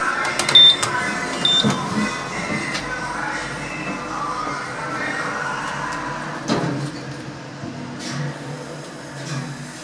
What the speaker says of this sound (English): Along I go to a circular Schindler lift at the Madrid Metro Station Museum.